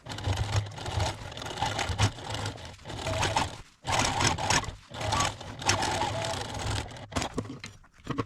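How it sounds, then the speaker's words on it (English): A sewing machine runs in fast rattling bursts while top stitching the lining seam of a fabric doll Moses basket, close and busy, pausing briefly between runs. "Now I'm just top stitching after I turned the lining to the inside."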